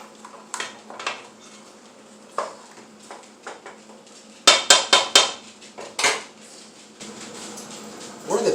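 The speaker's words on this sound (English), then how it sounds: "So we use a very, very, very hot skillet and just kind of add it, kind of mix it around." Chicken casserole ingredients being mixed in a very hot skillet: a utensil scrapes and knocks against the pan, with a burst of rapid metallic clanks midway, close and clear.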